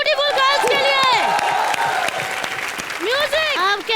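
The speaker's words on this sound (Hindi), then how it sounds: "एक बार जोरदार तालियां ब्यूटीफुल गर्ल्स के लिए।" A studio audience at a live TV comedy show claps loudly and steadily, with whoops and high cheering voices bursting out at the start and again near the end.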